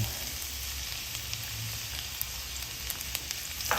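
Garlic frying in oil in a pan for Kapampangan-style chicken inasal, a steady close sizzle with scattered small pops and crackles, no voices.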